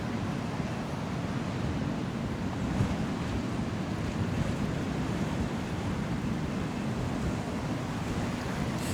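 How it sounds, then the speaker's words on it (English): A constant heavy roar of huge ocean waves and wind from Hurricane Erin at Ocean City, Maryland, rumbling low and broad without a break, with no voices. "Huge waves."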